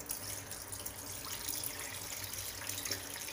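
Curdled milk is poured through a thin cloth over a mesh strainer into a vessel below, giving a steady close trickling splash of liquid.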